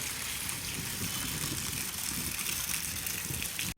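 Water pouring down from above at an ashram, a steady broadband rushing and splashing that holds at an even level throughout with no speech over it.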